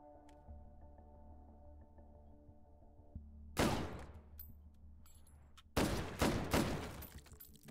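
Gunfire in the VR shooter H3VR with an Israel Defense Force infantry setup: a sudden burst of rapid shots, a pause, then a second loud volley, over a steady low background hum.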